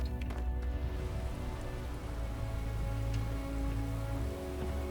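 Steady rain falling in the Starfield video game, a dense, even hiss that continues throughout at moderate loudness, with a low hum beneath it and no talking.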